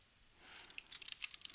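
A file name typed on a computer keyboard: a quick run of light, close keystroke clicks, faint and alone, getting busier toward the end.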